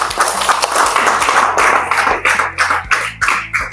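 Audience clapping at a youth empowerment event at Abeokuta Polo Club, a steady crowd patter for a few seconds that thins into separate, louder claps near the end.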